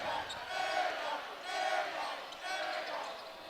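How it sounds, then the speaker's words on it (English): College basketball crowd at Utah State hosting Weber State, chanting in a rhythmic, repeated pattern of rising and falling group shouts, heard at a distance and fairly faint. "They keep yelling air ball every time."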